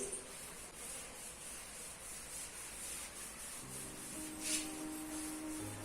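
Writing rubbed off a board, a soft, continuous rubbing and scrubbing close by, quiet, with a faint tonal hum joining in toward the end.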